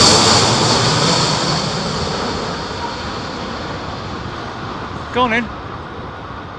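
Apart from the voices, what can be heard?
airliner landing at Heathrow in storm winds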